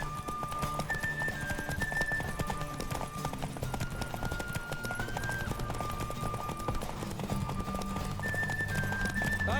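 A horse gallops in The Witcher 3, its hooves pounding in a quick, steady clip-clop across the whole run, with a tonal music line sitting above the hoofbeats.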